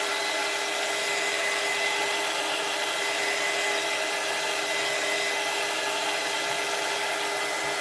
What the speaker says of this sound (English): Let's give it a little drier here to make sure that it's all dry.